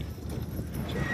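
Hooves of draft show horses pulling a hitch clip-clop steadily around a stadium arena during competition at the National Western Stock Show, close and continuous, with a brief whinny and faint crowd murmur.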